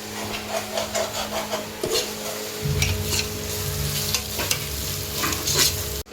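Onions with ginger garlic paste sautéing in a pan for prawn biryani, a soft sizzle under repeated scraping and stirring strokes, with a low steady hum from the stove area starting partway through.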